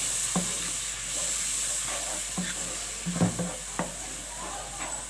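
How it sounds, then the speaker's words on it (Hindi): Ground tomato and spices frying for fish curry, a constant hissing sizzle broken by scattered spoon scrapes and light pan knocks, close and moderately loud with no talking. "अब सिर्फ हमें मसाले को खूब अच्छे तरीके से भूनना है।"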